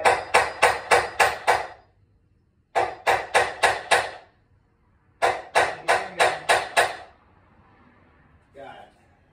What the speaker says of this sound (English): Hammering.